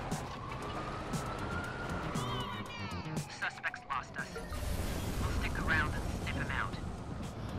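Police car sirens wail in a chase within the video game Watch Dogs, a rising and falling tone sweeping over engine and traffic noise for several seconds, fairly loud, with other game sounds layered on top.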